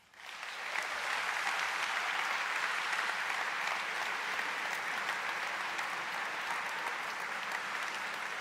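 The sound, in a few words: audience applause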